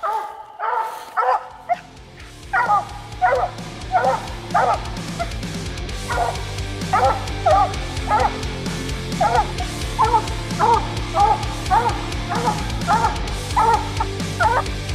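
A Bluetick Coonhound bays at a treed raccoon on a moonlit night hunt, its deep barks repeating in a steady rhythm and carrying loudly from a short distance.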